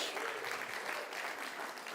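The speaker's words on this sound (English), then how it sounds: "Give it up for the band again." A church congregation applauds the band during a Sunday service, a dense, sustained round of clapping from many hands that fills the space steadily throughout.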